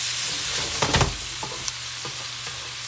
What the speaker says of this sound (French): Ça chante. C'est en train de mijoter.